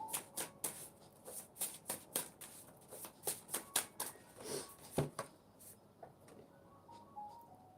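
Tarot cards shuffled and pulled from the deck in a series of quick, soft riffling bursts, close and fairly quiet, with no speech.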